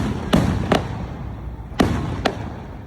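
Fireworks burst during a US Independence Day celebration on July 4th, four sharp booms landing in two pairs over a steady background hum, each crack quickly fading.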